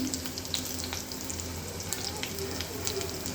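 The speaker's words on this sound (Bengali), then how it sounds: "প্যানে একটু তেল দিয়ে নিলাম, তারপরে রসুনটা হালকা করে ভেজে নেব। তারপরে কাঁচামরিচ দিলাম" Garlic and green chilies frying in oil in a pan: a steady bright sizzle with small crackles and pops, close and continuous, with no talk.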